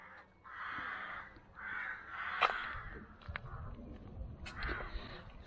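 Crows and rooks caw repeatedly outdoors near a 13th-century church, harsh calls from several birds at moderate distance over a quiet background.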